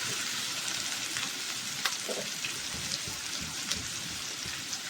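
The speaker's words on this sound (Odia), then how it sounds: "ଭଲ ଭାବେ ତେଲରେ ପିଆଜକୁ ଭାଜିଦେବା।" Chopped onions frying in hot oil for baingan bharta, a steady, close sizzle and crackle with occasional soft stirring taps, continuous and without voices.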